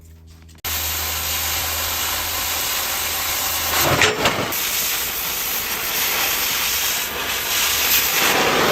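An oxy-fuel cutting torch cutting steel during a Cat cold planer weld repair roars with a loud, continuous hiss that starts abruptly and runs steadily to the end, with a brief flare partway through.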